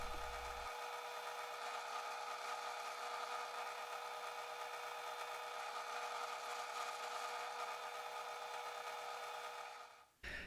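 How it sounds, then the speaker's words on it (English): A drill press fitted with a Forstner bit bores into wood to clear an air pocket in a Viking-inspired ornamental popper, a steady humming motor whine held evenly for about ten seconds before cutting off abruptly. "using a Forstner bit to drill out the air pocket first"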